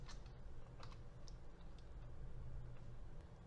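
Quiet keystrokes on a computer keyboard while an equation is entered, a sparse irregular run of soft clicks over a low steady background hum.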